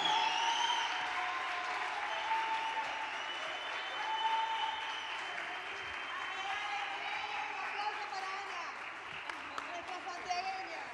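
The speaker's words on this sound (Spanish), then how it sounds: "Fuerte, fuerte el aplauso para estas mujeres." Sustained audience applause fills a hall after an all-women music group performs at a national women's music gathering, a dense wash of clapping from a sizable crowd with a voice over a loudspeaker briefly speaking above it.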